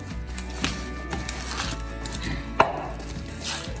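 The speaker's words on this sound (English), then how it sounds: "I'm gonna toss my salad here with all my goodies to mix it all around" Southwest salad of lettuce and mixed toppings being tossed in a bowl, a run of close, soft rustling and clattering with one sharper knock partway through.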